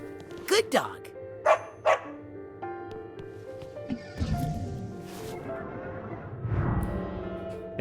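A dog in the video game Psychonauts 2 lets out a few short, sharp barks close up, followed by whimpering game sounds and musical tones, with a voice talking briefly.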